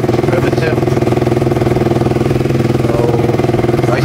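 A KTM Duke 200 motorcycle with a newly replaced regulator idles steadily up close, its single-cylinder engine putting out an even, rapid mechanical pulse with no rev changes.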